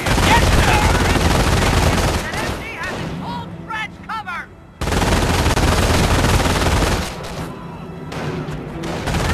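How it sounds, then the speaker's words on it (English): Rapid automatic gunfire in the war game Company of Heroes, loud sustained bursts that stop briefly for scattered shouting voices before the firing roars back in and continues. "Taking automatic fire!"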